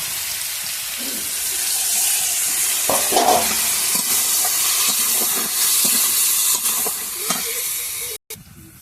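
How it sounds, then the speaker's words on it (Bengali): A little water goes into a pan of boiled cauliflower being cooked as a roast, setting off a loud, continuous hiss and sizzle with a few stirring clatters, ending in a sudden cut. "এটা ধুয়ে জল দিয়ে দেবো, অল্প জল দিয়ে"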